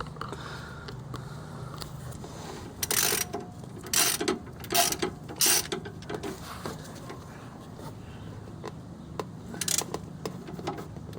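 Ratchet tightening bolts on a transaxle plate of a 2007-2012 Nissan Sentra, bursts of quick clicking in several short runs, close and fairly loud over faint background noise.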